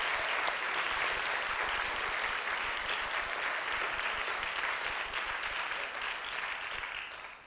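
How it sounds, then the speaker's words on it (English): Sustained applause from a concert audience honoring a temple board at a cantorial concert, broad and even throughout, fading gently near the close with no speech. "please stand up and give them a round of applause"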